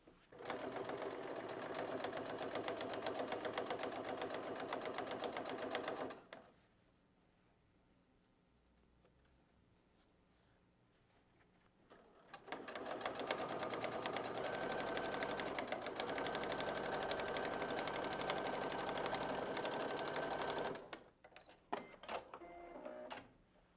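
Sewing machine stitching a zipper onto a fabric pencil case, running in two long steady bursts of close, loud whirring with a quiet pause between them.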